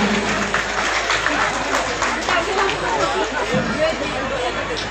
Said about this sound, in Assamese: সকলোৱে হাত চাপৰি দি।